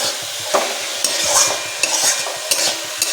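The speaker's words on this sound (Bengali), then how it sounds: "আর এই দেখো আমার লাউ ঘন্ট এখানে হচ্ছে" Bottle gourd curry (lau ghonto) frying in a pan while a spoon stirs it, a steady sizzle with repeated scraping strokes, close and fairly loud, no voices.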